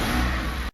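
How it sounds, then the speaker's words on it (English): A car engine runs steadily at a loud, close, revving level for most of a second, then cuts off abruptly into silence. "and then you start the engine"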